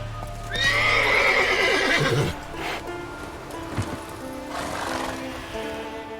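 Roach, Geralt's horse in The Witcher 3, gives a loud whinnying neigh over clip-clopping hooves, followed by quieter hoof steps and rustling game ambience.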